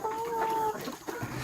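Hens in a coop with about 150 newly arrived chickens cluck and murmur, with a clear, sustained squawk at the start, over a steady outdoor background.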